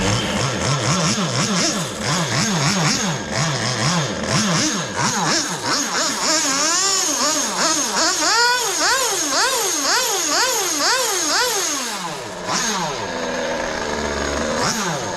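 OS 15RX 2.5 cc nitro engine in an RC car screaming loudly and continuously, its pitch sweeping up and down in rapid repeated revs as the throttle is blipped, then dropping lower near the end.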